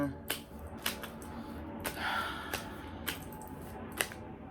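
A tarot deck shuffled by hand, producing several sharp riffling snaps and soft card rustles at uneven intervals, close and quiet.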